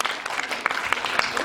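An audience at an international short film festival applauds with dense, sustained clapping that stays even and loud throughout, while voices murmur faintly underneath.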